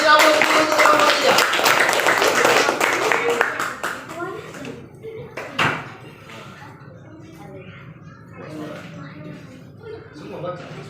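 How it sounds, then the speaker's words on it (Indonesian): A classroom of children clapping for a student group, a brisk burst of hand claps that thins out after a few seconds into scattered taps, chatter and shuffling. "Kasih tepuk tangan dulu, kasih aplaus dulu untuk kelompok 3."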